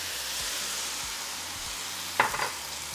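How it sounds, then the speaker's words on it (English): Vegetables with garlic and ginger sizzle steadily in a hot pan, with soft scrapes from stirring and a brief louder clatter near the end, no voices. "So now just allow that vegetables to cook for about 3 minutes."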